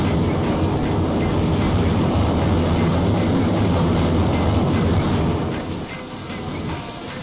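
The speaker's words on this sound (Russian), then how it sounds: "Так, только Виталь, ты самолет не разбей, ты на посадку, да?" A video game airplane comes in to land, its engine a steady, loud, broad roar that drops slightly in level near the end, with no talk over it.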